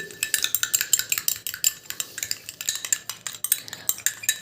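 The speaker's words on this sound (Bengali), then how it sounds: "এবার সর্ষের তেলের সাথে আমি অ্যালোভেরা জেলটা ভালো করে মিশিয়ে নিচ্ছি" Aloe vera gel stirred into mustard oil in a small bowl, a quick rhythmic series of light scraping and tapping strokes of a spoon, close and steady with no voices.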